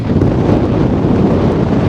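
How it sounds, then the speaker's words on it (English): Strong, steady wind roars and buffets the microphone throughout on a sandy boardwalk at Coney Island, a dense low rumble with no break. "All that wind and the sand kicking coming across the boardwalk."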